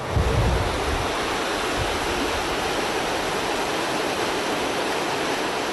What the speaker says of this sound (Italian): sentite dal rumore della macchina al rumore di quest'acqua impetuosa